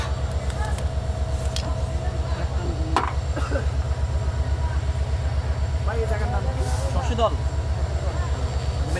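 A passenger train rumbles along with a steady, rhythmic low clatter of wheels on rails throughout, close and continuous, with indistinct background voices and occasional knocks.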